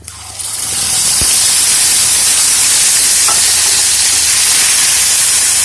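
Bay leaves, a dry chili and whole cumin hit hot oil with a loud, steady hissing sizzle that swells quickly and holds close and constant, with a faint clink partway through.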